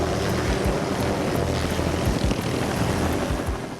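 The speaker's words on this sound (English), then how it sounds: "The helicopter they're flying is a Sikorsky S-92." A Sikorsky S-92 helicopter, a large passenger aircraft, lifts off for takeoff with a loud, steady roar of engine and rotor wash that holds constant and close, with rhythmic rotor beating running throughout.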